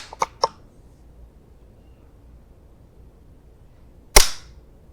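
Rifle shots fired through a scope at competition targets: two sharp, quick cracks right at the start, then near silence until a single loud, sharp report around four seconds in.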